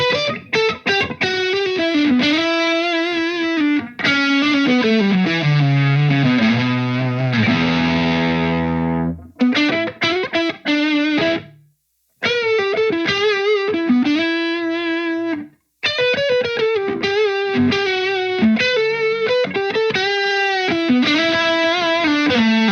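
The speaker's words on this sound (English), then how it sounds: "If I push the gain down and bring down the tone, you can get some quite nice, rich, fat lead tones." Electric guitar played through a Carl Martin Greg Howe signature Lick Box overdrive on its high-gain channel, loud distorted lead lines with sustained bends, runs and a held chord, broken by short pauses, with no voices.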